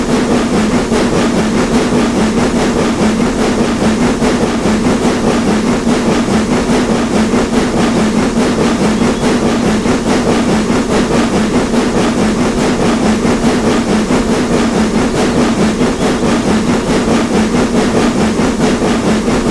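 Steam locomotive labouring up a steep gradient in Train Simulator Classic, a dense continuous loud rumble of exhaust and running gear that holds steady throughout with no talk.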